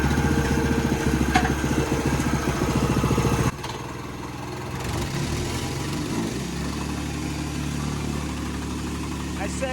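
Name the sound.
rented tamper engine running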